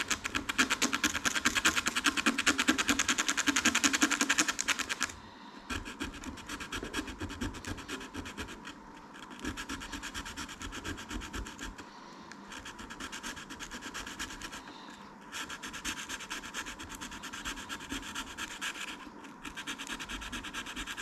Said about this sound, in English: I'll just remove a bit of coating further down.